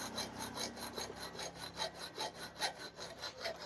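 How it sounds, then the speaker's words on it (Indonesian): A hacksaw cuts through a seized bolt on a car battery terminal, giving steady rhythmic back-and-forth rasping strokes, close and clear with no talking. "Nah, sekarang kita geraji ya, jangan dipetel ya."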